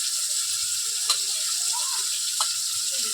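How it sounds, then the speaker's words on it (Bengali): Spiced meat paste fries in hot oil in a wok, a soft steady sizzle with a couple of sharp clicks or taps of a utensil against the pan. "এটা তেলের মধ্যে শুধু ভাজা করে নেব"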